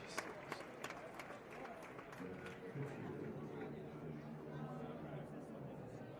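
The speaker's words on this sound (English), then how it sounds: "Let's get the crowd noise going again" Baseball crowd noise played during a Blue Jays versus Nationals game: a steady, faint wash of stadium murmur and chatter, with scattered sharp claps near the start, continuous throughout.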